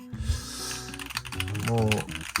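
Quick bursts of typing on a Leobog Hi75 full-aluminum custom mechanical keyboard, close-up clacks in fast succession, with some background music or voice underneath.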